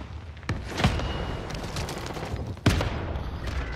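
Video game combat with two heavy, sudden explosive booms like rocket launcher blasts, close and loud, over a constant rumble of gunfire and battle noise.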